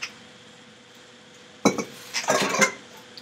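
A pan set down into a kitchen sink, with a sharp metallic clank followed by a short cluster of clinks and rattles against a quiet room background.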